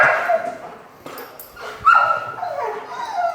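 El Chapo, a hunting dog trained to find morel mushrooms, yips, whimpers and barks up close in an eager, uneven string of sharp cries and whines over about three seconds.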